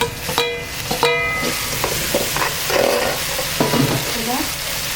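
Tomatoes fry in a pan with spices and onion, a steady bright sizzle with stirring scrapes and clinks of a spoon against the pan, close and fairly loud, no talking.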